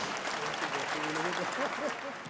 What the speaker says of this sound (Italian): Un applauso a loro.